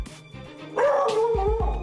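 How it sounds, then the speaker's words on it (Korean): A reactive Jindo dog barks at strangers indoors, a few sharp close barks following a softer whining sound. "하지만 다시 또 짖기 시작하는 별이."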